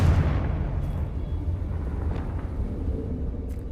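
A Confringo spell explodes in Hogwarts Legacy combat, a loud booming burst that fades into a rumbling, crackling tail lasting a few seconds.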